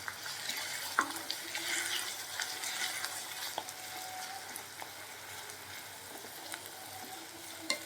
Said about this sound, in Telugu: ఇలా మీడియం ఫ్లేమ్లో పెట్టుకొని ఈ పేస్ట్ కూడా పచ్చివాసన పోయేంత వరకు బాగా ఫ్రై చేసుకోవాలి